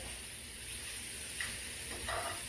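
Shrimp and scallion sizzle steadily in a hot pan, a constant broadband frying hiss with faint bubbling pops and no voices.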